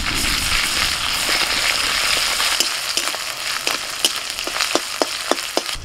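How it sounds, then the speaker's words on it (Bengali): Ginger garlic paste sizzles in hot oil with fried onions and green chillies, a steady crackling hiss with a run of sharp utensil taps on the pan toward the end. "পেঁয়াজটা ভেজে নিয়ে দিয়ে দিচ্ছি আদা রসুন বাটা।"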